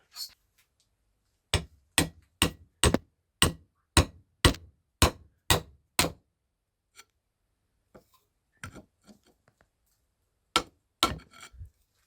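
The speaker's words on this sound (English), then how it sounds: "I just got this screwdriver, kind of using it like a chisel right now." Screwdriver driven like a chisel by hammer blows on Toyota Hilux IFS 4x4 front brake parts: a run of about ten sharp, evenly spaced metallic strikes, then scattered lighter taps and a final pair of hits, close and loud.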